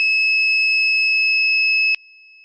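Engine Watchdog temperature alarm sounds a loud, steady electronic tone for about two seconds, very close, then cuts off abruptly, leaving a fainter tone behind.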